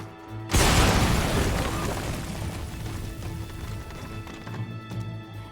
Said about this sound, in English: Okay, you're gonna throw a grenade?